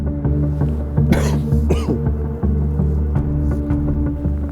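A single harsh cough bursts out near the mic over a steady low boat engine hum while fishing, with a second rougher cough or throat noise just after.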